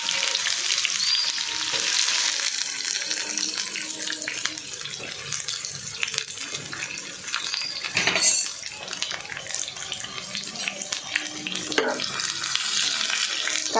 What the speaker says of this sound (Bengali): পেঁয়াজ আর রসুনটাকে আমি একটু লাল করে ভেজে নেব।